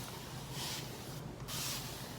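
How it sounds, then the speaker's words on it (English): An infinity spray bottle misting type 4 hair during a wash and twist styling, two soft hissing bursts separated by a short pause, faint and close. "It's been a minute since I had this spray bottle on here."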